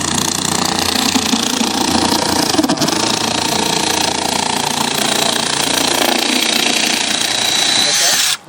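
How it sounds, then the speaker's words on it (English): A loud Milwaukee power drill grinds and cuts through metal during a vehicle extrication drill, one continuous, harsh roar that holds steady for several seconds, then cuts off abruptly. "So now grab that Milwaukee drill there"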